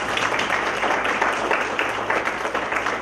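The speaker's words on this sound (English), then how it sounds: "Mr. Render a round of applause" A meeting audience at a recreation center gives Mr. Render a round of applause, a sustained wash of clapping at moderate level lasting a few seconds with little talk over it.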